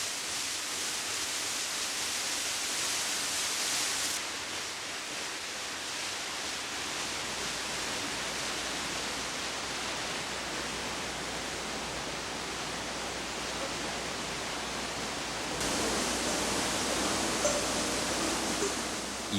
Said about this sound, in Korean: 쏟아지는 폭포 소리가 장단이 되고 떨어지는 물줄기의 파격은 춤 사이의 한 원형이다.